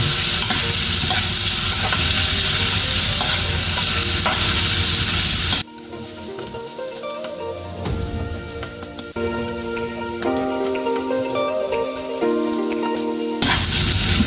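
Ginger and onion sizzle while frying in hot oil, a loud, steady hiss close up with stirring scrapes; partway through the sizzle drops back and a faint tonal hum appears before the full frying noise returns.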